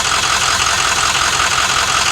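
An old diesel bus engine idles loud and close, a steady, rough rumble with a faint knocking texture running evenly throughout, no voices over it.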